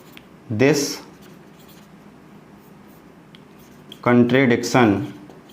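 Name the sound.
writing during a maths lesson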